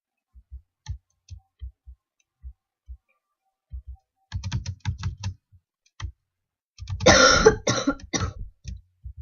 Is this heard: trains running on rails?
no